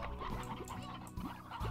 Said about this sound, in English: Oh my god, my chickens, this is going bad.